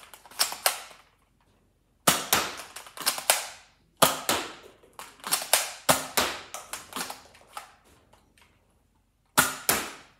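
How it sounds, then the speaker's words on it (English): Nerf Fortnite Primal toy blaster firing darts in separate bursts of sharp snapping shots with mechanical clatter, loud and close, divided by short silent pauses. "See, that was the Nerf Fortnite Primal."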